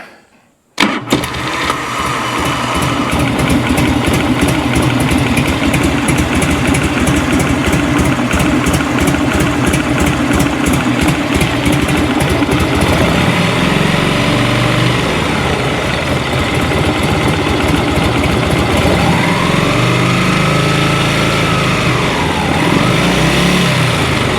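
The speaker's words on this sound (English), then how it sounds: "So what I'm going to do now is start the bike up, just let it idle" A 1986 Harley Davidson motorcycle fires up after a short silence and idles loud and close with a steady, throbbing rumble that runs unbroken for over twenty seconds, with no talking.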